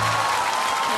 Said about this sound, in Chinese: 掌声一起响起吧